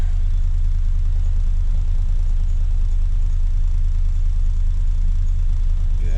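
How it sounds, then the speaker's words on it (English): Idle of a 2006 Lexus GS430 V8 sitting slightly high and a little shaky, a steady low engine hum recorded close and unchanging over six seconds, with no talk over it. "And it is idling a little high."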